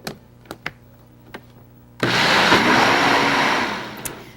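A kitchen blender whirs on to blend cashews and water: a few light clicks and taps first, then a loud, steady whirring roar for about two seconds before it eases off.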